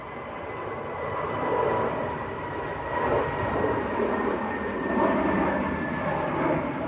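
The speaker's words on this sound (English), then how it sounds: "Lufthansa on the roll. And this one's out to Munich A320 Neo" A Lufthansa Airbus A320neo rolling for takeoff to Munich at Manchester Airport delivers a broad, steady engine roar from a distance, swelling gently in waves without pause.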